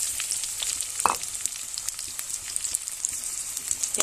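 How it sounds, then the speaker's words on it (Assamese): Chopped onions drop into hot mustard oil already holding whole cumin seeds, setting off a steady close-up sizzle and crackle of frying with a brief louder burst, no voices. "আৰু ডাঙৰ সাইজৰ পিয়াজ দুটা কাটি লৈছিলো এটা এড কৰিম।"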